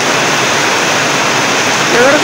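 Heavy monsoon rain pours over a house while a swollen stream rushes below it, forming a loud, dense, unbroken roar of water with no pauses.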